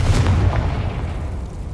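A Confringo blasting curse in the video game Hogwarts Legacy lands as one deep, booming explosion whose heavy low rumble decays over a second or two.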